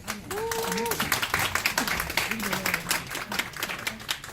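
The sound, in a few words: audience clapping to welcome speakers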